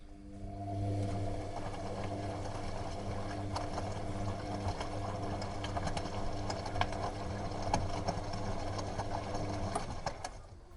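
A washing machine runs a laundry load with a steady mechanical hum and whir, a continuous churning drone with faint intermittent clicks and knocks.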